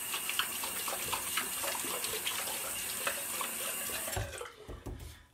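Hands being washed under a running bathroom tap, a steady broadband gush of water close by that cuts off near the end, leaving a few drips and handling sounds.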